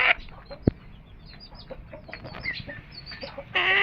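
A hen clucks softly at close range. Her short, scattered clucks and small calls sit over a quiet room background, ending with a louder squawk.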